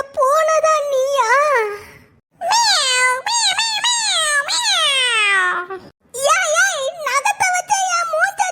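A cartoon cat meows loudly several times in close succession, with drawn-out, wavering, whiny calls that rise and fall, separated by brief gaps.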